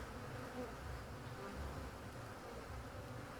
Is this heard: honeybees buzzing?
yes